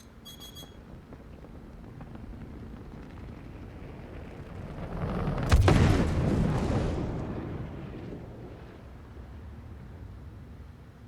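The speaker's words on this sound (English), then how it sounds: "One size 9 torpedo." One size 9 torpedo strikes a ship in a space game toughness test, landing as a single sharp blast that swells into a long rumbling roar and slowly fades over a steady low hum.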